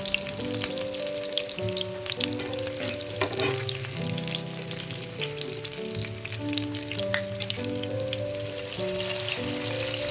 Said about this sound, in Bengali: ওই একই তেলে ম্যারিনেট হয়ে যাওয়া চিকেনগুলো পরপর ছেড়ে দিলাম। এপিট ওপিট করে হালকা ফ্রাই করে দিচ্ছি।